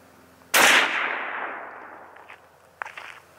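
A single sharp rifle shot fires a 36-grain Barnes Varmint Grenade through a chronograph outdoors, loud and close, with a long fading echo, followed by a few faint clicks.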